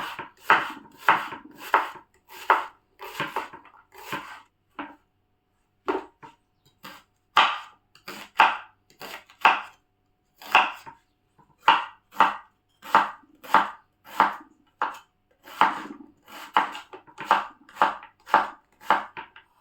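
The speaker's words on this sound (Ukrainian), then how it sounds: "ми беремо цибулю і ріжемо її" A knife chops onion on a board in quick bursts of sharp, steady strokes, with a short pause partway through and then more even rhythmic chopping.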